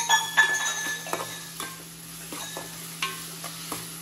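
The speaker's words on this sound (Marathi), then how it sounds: "त्याच्यासाठी मी मीठ टाकून घेते आणि याला मस्त मिक्स करून घेते" Chopped onion with salt is stirred in a hot pan at home. There is a soft sizzle with scattered scraping and clinking strokes of a spoon against the pan, close and moderately quiet, with no voices.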